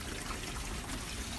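Rainwater pouring into a blue plastic barrel of a rain-harvesting system after a blockage was cleared, a quiet steady trickling wash with no talking.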